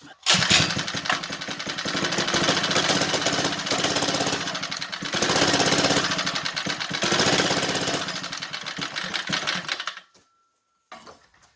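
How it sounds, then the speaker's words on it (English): A 79cc Predator engine on a motorized bike runs loud and close with a rapid rattling putter, revving up and down several times before cutting off abruptly near the end. "I'm going to fire up the bike and see if this is actually a bi-directional clutch"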